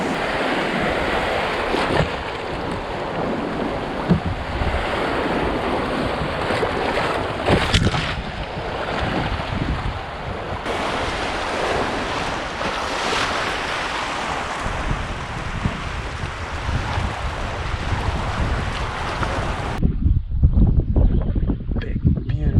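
Class 1 river rapids rush steadily on a solo canoe trip, with a broad constant roar of water and some wind. A voice speaks briefly, and the sound cuts muffled near the end, as if underwater.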